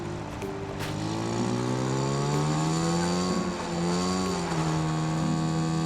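A PUBG: Battlegrounds motorcycle engine hums steadily, its pitch rising and dipping as the throttle changes, close and continuous without talk.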